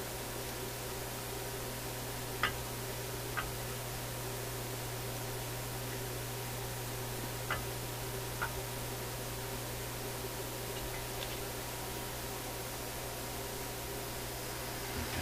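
Steady hiss of static from a Rogers Majestic 7M632 vacuum tube radio with a low constant hum beneath, broken by a few faint crackling pops scattered throughout.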